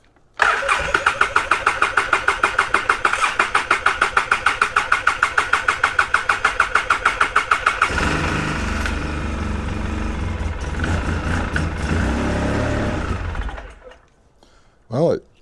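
A Polaris Sportsman 700 ATV cranks with a fast rhythmic chugging for several seconds, then fires and runs at a loud steady idle before cutting off, followed by a brief short burst.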